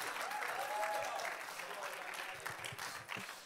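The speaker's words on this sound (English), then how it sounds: "let's give a round of applause." Steady applause from an audience fills the room, with a voice talking over the clapping.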